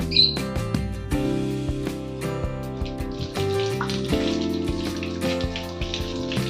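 Raw green mangoes are rinsed under a running tap, the splashing water fairly soft and steady beneath louder background music.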